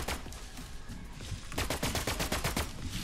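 Video-game gunshots crack out as a rapid series of sharp reports, denser in the second half, with steady game background underneath.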